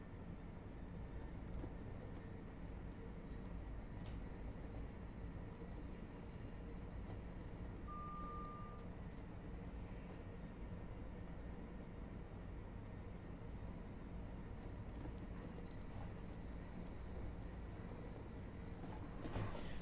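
A Class 700 train runs on the Brighton Main Line in Train Sim World 3, giving a low, steady rumble of motor and wheels that holds even and quiet throughout with no voices.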